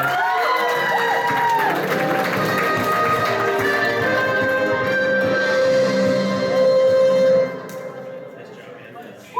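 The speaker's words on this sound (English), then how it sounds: "Let's give him a round of applause, guys." A crowd applauds and cheers at an anime convention's Who Wants to be a Millionaire game show. The steady, loud clapping and shouting runs for several seconds, with voices mixed in, then drops away sharply near the end.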